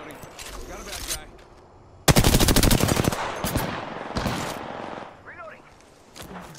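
Bursts of rapid automatic gunfire in a video game shooter, a dense loud rattling volley followed by shorter shots and fading clatter, with a voice speaking at times.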